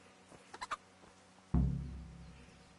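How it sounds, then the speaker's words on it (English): Chickens in Kingdom Come: Deliverance give a few soft clucks while being fed, followed by a loud scattering thump and rustle of feed that fades out. "Alright, feed the chickens."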